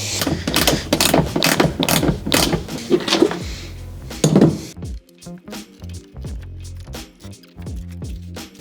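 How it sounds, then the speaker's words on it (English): Metallic ratcheting and clicking from undoing a seat belt bolt inside a 50-year-old BMW with decaying interior, rapid repeated clicks at first, then sparser ticks and clinks after a pause, close and fairly loud. "Now I can undo the seat belt right there."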